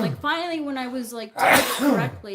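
A person speaks, then a loud sneeze bursts out close by, breaking off the talk before speech resumes.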